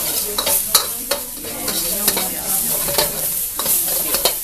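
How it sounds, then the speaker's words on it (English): Ground pork seasoned with salt stir-fries in a hot pan, a steady loud sizzle broken by repeated sharp scrapes and clacks of the spatula at an irregular rhythm, close up, with no voices. "So you gotta stir fry the pork, put a little bit salt."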